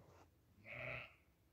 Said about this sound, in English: The sheep agree.